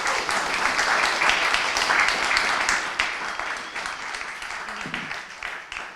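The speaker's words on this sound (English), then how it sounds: "So a little round of applause for them." An audience at a live-streamed evening event about BC's ancient forests gives a round of applause, a full steady wash of clapping that slowly tapers off.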